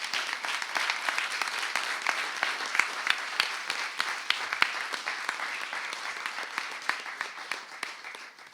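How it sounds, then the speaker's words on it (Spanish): A crowd applauds steadily for several seconds, a dense patter of many hands clapping that gradually fades toward the end. "Un aplauso, por favor, ya que estamos."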